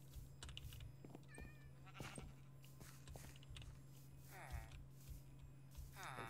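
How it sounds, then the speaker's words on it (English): Cat meows from the Minecraft video game, a couple of short rising mewing calls rising above a steady game background hum alongside keyboard typing and scattered clicks. "Oh wait, it's a kitty cat."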